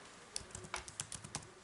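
Keys clicking on a computer keyboard as a command is typed into MATLAB, a brief run of about eight quick, close, soft taps at an uneven pace with no voice over them.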